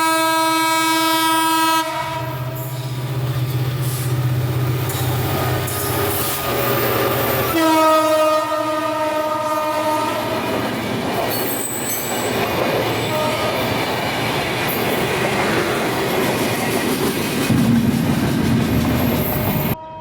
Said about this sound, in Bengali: তাহলে উপভোগ করুন শ্যামপুরে ছুটে চলা আজকের ট্রায়াল স্পেশাল ট্রেনটি।